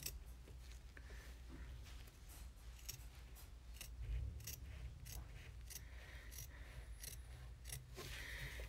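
Scissors trim vinyl fabric for a clutch bag, cutting in quick repeated snips. The snips are quiet and close, layered over soft rustling with no voice.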